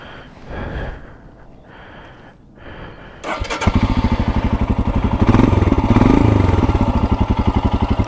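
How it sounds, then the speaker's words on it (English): A Royal Enfield Scram motorcycle with an aftermarket silencer is started: quiet clatter and breathy sounds come first, then the engine catches and settles into a loud, steady, thumpy single-cylinder idle close by. "We fire it up."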